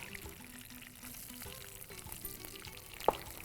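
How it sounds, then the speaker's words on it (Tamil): Curry leaves, mint, cashews and onions sautéing in a pan for wedding-style kichadi made with coarse rava, a steady soft sizzle with faint stirring scrapes and one sharp clink near the end. "கருவேப்பிலை, புதினா, முந்திரி பருப்பு போட்டு நல்லா வதக்கிட்டோம்"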